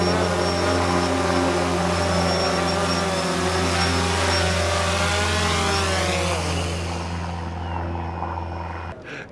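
DJI Phantom 2 Vision Plus quadcopter drone lifting off, its rotors holding a loud, steady, close whine whose pitch rises and shifts as it climbs, then cuts out abruptly at the end.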